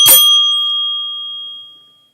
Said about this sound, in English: My bell needs oiling, yeah.